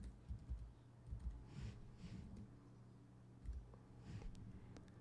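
Soft keystrokes tap on a computer keyboard in short uneven bursts with pauses between them, quiet and close by.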